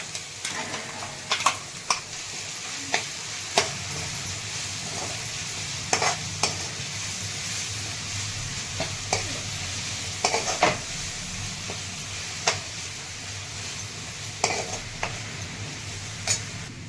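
Spring onion greens being sautéed with finely chopped green chili and garlic, a low steady sizzle with periodic sharp spoon scrapes and taps against the pan throughout.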